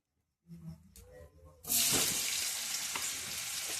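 Paneer dropped into hot oil for a light fry bursts into a loud, steady sizzle after a short stretch of quieter clatter, then crackles on continuously up close.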